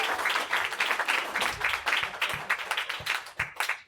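Audience applause at a stand-up comedy show, many hands clapping in a dense, steady wash that carries on for several seconds before fading out at the end.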